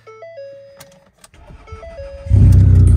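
A crashed Ford Escape with high mileage starts up and its engine roars loudly after a quiet lead-in with a few faint tones and clicks, the rumble swelling and holding strong to the end.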